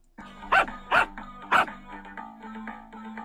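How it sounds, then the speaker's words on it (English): A cartoon dog barks three times in quick succession in a flash video game, the sharp yelps loud and close, followed by quieter game sounds and music. "Here's the dog. So just spam click the dog."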